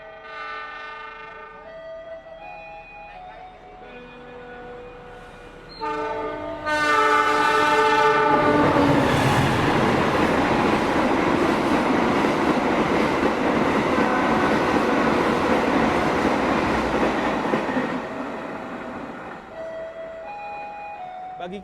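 Kutojaya Selatan economy passenger train, an extra seasonal service at Rancaekek station: a loud horn blast sounds, then the train thunders past close by for about ten seconds with rumbling wheels before fading, with another horn near the end.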